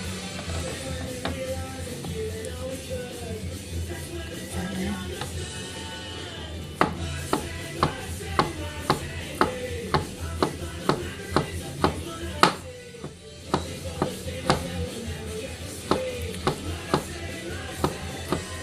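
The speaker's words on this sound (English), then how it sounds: "I'm just gonna see how it slices up some of this meat." A purple G10-handled knife slices thin pieces of corned beef on a cutting board, a steady run of crisp, evenly spaced knocks as the blade strikes the board, close and clear over a faint background hum.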